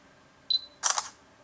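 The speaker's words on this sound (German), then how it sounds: "Stellt scharf und macht dann gleich ein Foto." A Samsung Galaxy Gear smartwatch takes a photo: a brief high focus beep, then a short crisp synthetic shutter click, both close and clear over a quiet room.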